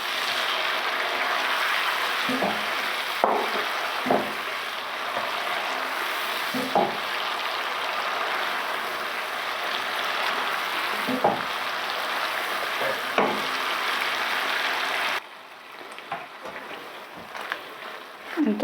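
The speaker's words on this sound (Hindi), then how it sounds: "तड़का हो गया" Spices tempering in hot oil for a white turnip (gunglo) sabzi give a steady, close, dense sizzle with a few soft clinks and stirring knocks, easing off near the end.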